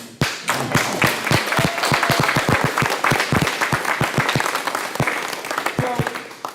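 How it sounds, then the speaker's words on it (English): A small group claps at a ribbon-cutting ceremony for an advanced manufacturing academy at a career center, with sharp, distinct claps close by for several seconds, thinning out toward the end, while someone speaks. "I'm going to clap for you."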